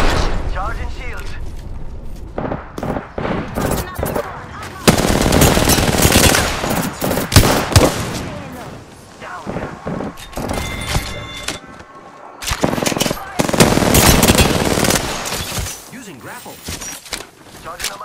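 Heavy automatic gunfire from an Apex Legends match, with dense rapid bursts and loud sustained volleys recurring throughout, close and punchy, with game voice lines and talk mixed in.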